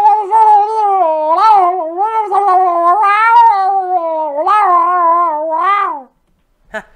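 A cat gives a long, drawn-out wailing meow for about six seconds, loud and close with rising and falling pitch, then stops, followed by a brief faint click.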